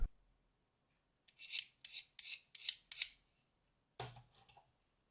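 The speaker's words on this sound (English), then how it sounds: "so I scraped off the remains using a utility knife" A utility knife scrapes the edge of a circuit board in a quiet room, a series of about six short, sharp rasping strokes in a row, then one harsher scrape near the end.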